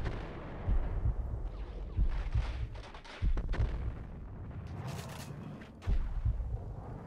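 Gunfire in Max Payne, a handful of heavy booming shots spaced a second or so apart, punchy and close, with scattered lighter crackles in between.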